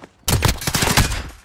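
A suppressed gun in Call of Duty: Modern Warfare fires a rapid burst of close, punchy shots after a brief quiet moment, each crack following closely on the last for about a second.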